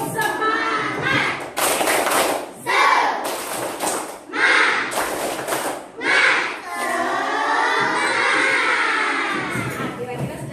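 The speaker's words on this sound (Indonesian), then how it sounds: "So, 1, 2, 3, tepuk semangat." A classroom of schoolchildren performs the tepuk semangat spirit clap, sharp rhythmic clapping bursts and thumps mixed with loud chanting and shouting voices, ending in a sustained group chant.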